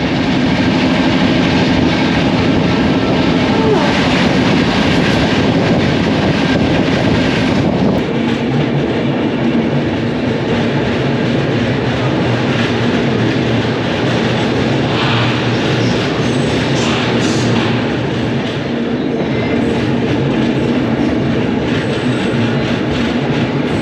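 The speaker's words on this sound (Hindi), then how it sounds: "तो सामने मेरे समझ से समता एक्सप्रेस आ गई है" The Samta Express, an Indian passenger train, arrives with a loud, continuous rumble and rattling wheel clatter that fills the whole stretch, with faint squeals in the mix.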